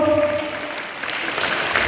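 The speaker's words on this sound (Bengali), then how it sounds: "একটা জোরদার হাততালি হবে।" Audience applause for an artist at a World Music Day celebration in Dharmanagar, a short burst of steady clapping from a crowd, moderately loud with a hall-like spread.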